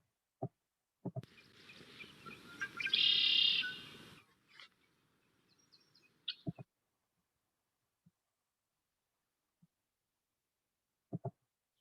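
A riparian songbird sings a bright, buzzy phrase of about three seconds, strong and fairly close, with a few sharp clicks before and after and long stretches of quiet.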